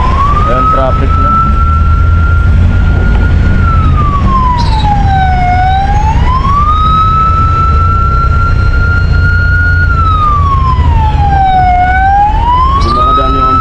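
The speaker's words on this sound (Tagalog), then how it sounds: "Di makadaan yung ambulansya. Di makadaan ang ambulansya, traffic." Ambulance siren wailing up and down in slow sweeps, loud and close, while the vehicle is stuck in traffic near a protest at the Supreme Court, with engine rumble and street noise underneath.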